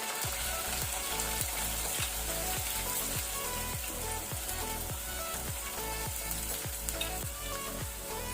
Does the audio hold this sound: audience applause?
no